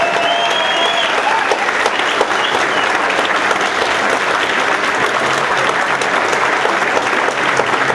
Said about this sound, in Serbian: da dobiju svoj zasluženi deo aplauza